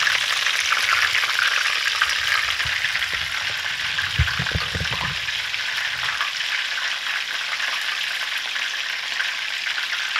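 Vietnamese spring rolls frying in a pan of oil give a steady, even hiss, with a brief burst of louder bubbling and spatter partway through.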